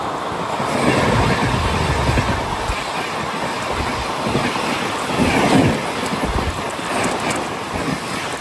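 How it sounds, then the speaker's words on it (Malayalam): An Intercity Express train pulls out and runs steadily along the track, a loud continuous rumble with wheel clatter and carriage noise heard from on board, sustained throughout with no pauses. "ഇവിടുന്ന് ട്രെയിൻ എടുത്തു"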